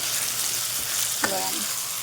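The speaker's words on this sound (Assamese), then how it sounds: "আমাৰ পিঁয়াজখিনি ভজা হৈ গ'ল।" Onions fry in a pan as meat is cooked, giving a steady close sizzle with a brief clink of stirring and a short voice heard once.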